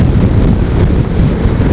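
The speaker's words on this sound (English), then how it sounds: "Man, it's really windy." Strong, steady wind buffeting a microphone during a motorcycle ride, a loud continuous roar with no break.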